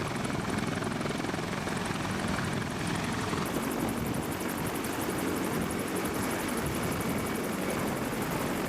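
A Sikorsky CH-53E Super Stallion heavy-lift military helicopter roars loud and close, its rotor beat pulsing steadily under dense engine and turbine whine throughout, with no voices.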